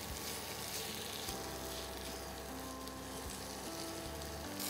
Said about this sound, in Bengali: এটা একটু ভালো করে ভাজবে